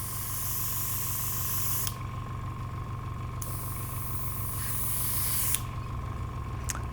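An airbrush spraying paint in two long bursts of loud, bright hiss, separated by a quieter stretch where a steady compressor hum and a faint whistle continue beneath.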